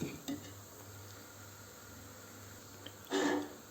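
Semolina for helva is roasted in a pan, giving a faint, steady dry sizzle with light stirring. A brief, louder scrape of the spoon against the pan comes near the end.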